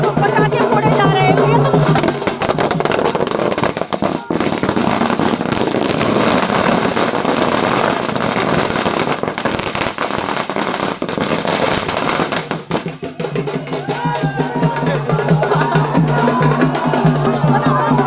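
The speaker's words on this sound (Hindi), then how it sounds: "बीजेपी कार्यालय पर देखिए यहाँ पर पटाखे फोड़े जा रहे हैं।" Firecrackers bursting in dense, crackling volleys outside a BJP party office during a celebration, a loud continuous barrage of sharp pops with crowd noise behind it.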